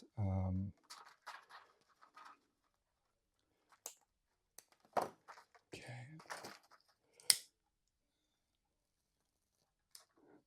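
A few quiet, sharp snips and small clicks as scissors trim string ends on an Anglo-Saxon lyre, spaced irregularly amid near silence, with one low thump at the start.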